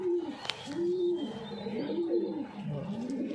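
A Giribaz pigeon coos in a rolling, repeated pattern, close and clear, with a few soft throaty phrases running one into the next and a brief sharp click partway through.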